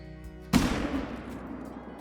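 A single loud rifle shot fired at a whitetail deer in a hunting video game cracks sharply, then trails off in a long, fading rumble with no voices.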